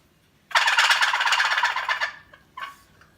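A Wilper wooden box turkey call played to imitate a tom's gobble: one loud, rapid, rattling burst of about a second and a half, then a short trailing note, close up with no talking.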